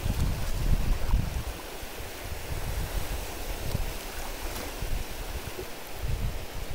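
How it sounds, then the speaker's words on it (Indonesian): Ocean waves roll and break on a shoreline, a steady rushing surf with swells rising and falling, mixed with gusty wind buffeting the microphone. "ombak-ombak datang gini tuh ada nada jadinya di pendengaran kita"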